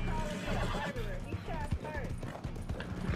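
A horse in Red Dead Redemption 2 Online neighs and whinnies repeatedly over clip-clopping hooves, fairly close, with talk mixed in throughout.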